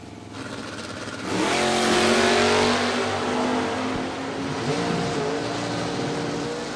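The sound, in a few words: 1968 Ford Mustang drag race car launching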